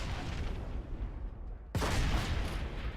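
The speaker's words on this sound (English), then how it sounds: "The anti-vehicle phalanx turret offers great defense against ground vehicles with its high explosive" An anti-vehicle phalanx turret in the Planetside 2 video game fires high-explosive rounds over continuous battle noise, one sharp loud blast standing out partway through.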